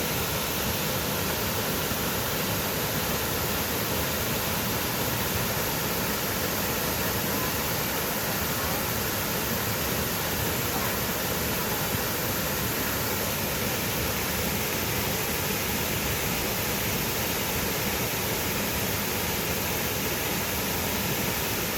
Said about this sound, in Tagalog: Talon Falls daw, Talon Falls.